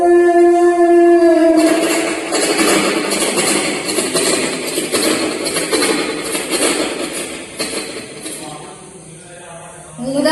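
A human voice mimics a passing train, building a loud, rumbling, hissing roar with a brief horn-like tone at the start, sustained for about ten seconds.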